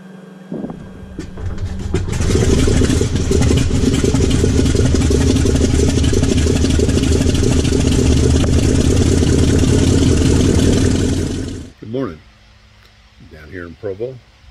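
A light aircraft's piston engine cranks, catches and runs at a loud, steady roar for about ten seconds, then cuts off abruptly, followed by a few short, quieter sounds near the end.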